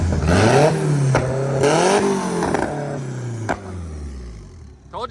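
A Nissan 370Z on Douglas tires doing a burnout, the engine revving loudly and rising and falling in pitch over several seconds before dropping off, with voices talking over it.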